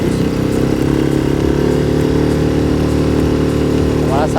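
A Suzuki 6 hp four-stroke outboard motor pushes a Cabesto 2.70 inflatable dinghy at mid to higher throttle, a loud, steady, close buzzing drone that holds constant throughout.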